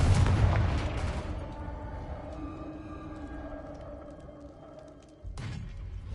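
A single Confringo spell explosion in Hogwarts Legacy: a loud booming blast that rumbles and slowly fades over several seconds, followed by a second sharper impact near the end, with no talk.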